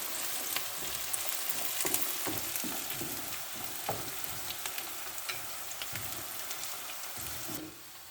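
Sliced onions sizzle and crackle steadily in hot oil in a pan while making Kayseri yağlaması, with close scraping stirs scattered throughout and no voices.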